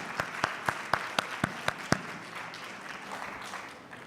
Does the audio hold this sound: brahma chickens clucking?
no